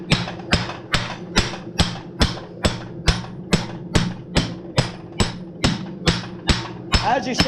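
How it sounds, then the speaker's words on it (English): A hammer strikes hot metal while forging nails, about fourteen sharp, evenly spaced ringing blows at a steady rhythm, close and loud, ending in a quicker scrape. "Oh, got my hammer."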